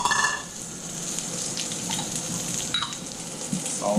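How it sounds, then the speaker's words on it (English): Hot oil spits and crackles in a pan while fried rice is cooked, giving a close, uneven sizzle with scattered sharp pops and a faint watery background. "Okay, some oil. Whew. Oil splatter."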